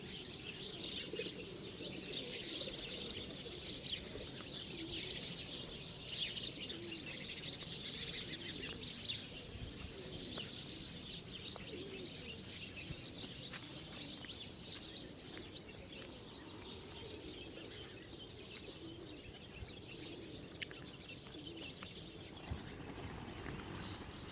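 Birds chirp and pigeons coo around the Shri Gangeshwar Mahadev temple in a natural setting, a continuous mix of distant calls and soft cooing over quiet outdoor ambience.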